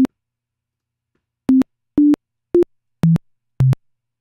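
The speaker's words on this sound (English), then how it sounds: "when I release the key, we can see that sine wave jumps down and that's making that pop sound" Six short synthesizer sine tones sound one after another at shifting pitches, each starting and ending with a distinct click or pop, separated by silence.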